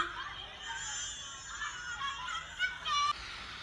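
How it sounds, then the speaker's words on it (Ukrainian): Distant children's voices on a playground chatter, giggle and squeal in play, with a few higher shrieks rising near the end. "Діти граються на майданчику."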